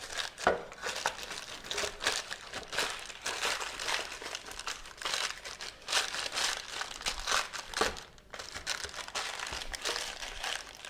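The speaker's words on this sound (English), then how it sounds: "really crumpling up the edges will help hold it down in place" Lining of a loaf pan crumpled up around the edges while making sourdough brioche, close crinkly crackling bursts that come in repeated irregular waves with brief pauses, no talking over it.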